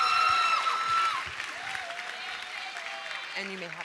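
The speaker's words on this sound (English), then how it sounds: "Please give one last round of applause for the first annual Won't Be the Same Award winners" Applause from an audience at a high school senior awards ceremony, loudest at first and then thinning, with a voice over it and tones near the end.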